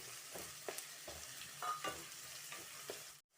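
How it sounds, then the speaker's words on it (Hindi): Chopped onions fry in a pan with a steady sizzle, broken up by repeated stirring scrapes, and then the sound cuts off abruptly at the end. "अब प्याज को भी हम अच्छे से भून लेंगे।"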